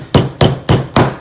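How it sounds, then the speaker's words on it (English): Four sharp, evenly spaced strikes of a polymer hammer driving a locking block pin into a SAR9 pistol part resting on a bench block, each a loud close thump. "drive it home with your polymer hammer"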